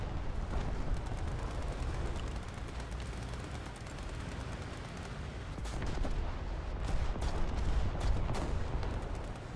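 A tank cannon fires in a tank video game, with dense rumbling blasts and sharp bursts of battle gunfire running throughout, loud and busy, no voices.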